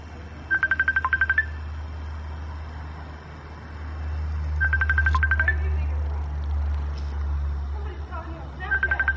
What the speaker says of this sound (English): Somebody's phoning me.